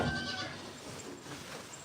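Billy goats bleating at an animal farm, a loud wavering bleat opening the moment and then a noisy rumble of restless animals milling close by, with no talk over it.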